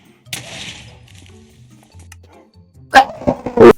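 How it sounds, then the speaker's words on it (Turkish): A fast-moving pet dog in a sped-up Minecraft world gives a few short, loud barks in a quick cluster near the end, following quieter game noise and soft voices. "Ultra hızlı köpeğim var artık."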